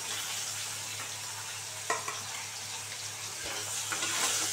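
Fish fries in a pan with a steady, quiet sizzle and bubbling, broken by a couple of soft clinks of a utensil, close by and without speech.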